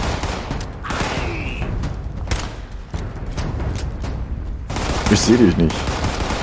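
Rifle gunfire in the video game Fallout 76, a few sharp shots scattered through steady game ambience while someone speaks German over them.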